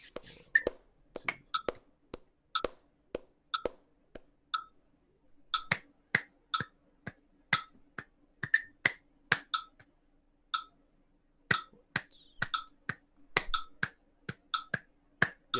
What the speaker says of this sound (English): So I just want you to clap.